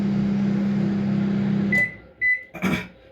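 An IFB 23L convection microwave oven hums steadily at close range while its turntable rotates. The hum then cuts off and a few short electronic beeps follow.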